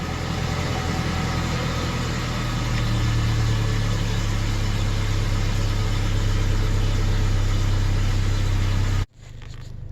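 A cold 2004 Chevy Colorado pickup engine running at a rough idle, a steady low rumble with a slightly uneven drone held for about nine seconds before cutting off abruptly.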